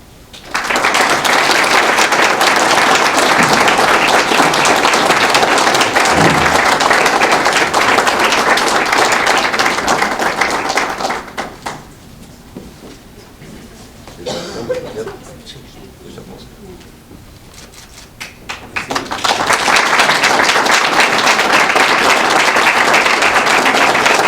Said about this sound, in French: Je pense qu'on pourrait donner une bonne main d'applaudissement à nos quatre managers.